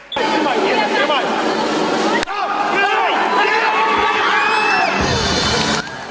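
Children in a circus audience cheer, shout and whoop loudly throughout a clown performance at the Dnipro circus, a dense, close crowd roar with excited high-pitched voices rising and falling.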